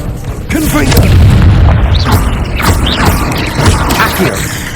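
Booming blasts from the Confringo fire spell in Hogwarts Legacy, several loud explosive bursts with crackling mechanical clatter between them, close and dense across the whole stretch.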